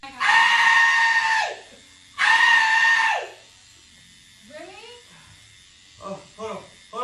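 A man getting tattooed lets out two long, loud, strained screams in a row, each lasting over a second, followed by quieter whimpering groans and short choppy cries.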